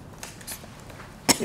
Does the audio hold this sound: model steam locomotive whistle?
no